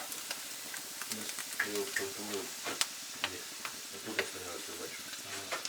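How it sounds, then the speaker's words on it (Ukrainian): Seafood sizzles steadily in olive oil in a dry pan, a close, soft crackle with scattered spatula clicks, while a voice speaks quietly over it. "Зараз ми морепродукти обжарюємо в олійці."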